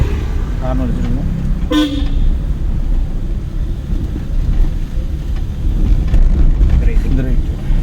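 A car horn toots briefly over the steady rumble of road traffic and wind noise, heard from inside a moving vehicle.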